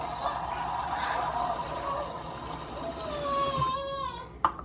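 Water poured from a scoop into a pot holding about two scoops of rice, a steady splashing stream with a rising fill tone, ending in a brief clatter.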